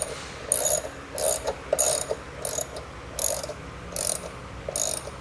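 Threading tap cutting into the frame of a 2013 Honda Odyssey during a trailer hitch install, giving a run of about eight short, close ratcheting clicks in a steady rhythm with brief pauses between them and no voices.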